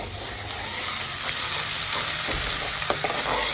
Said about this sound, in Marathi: फोडणी डन झालेली असा आणि आपण आता मसालो यूज करतो.